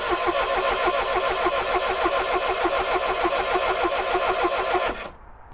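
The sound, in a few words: Triumph Dolomite engine cranking and starting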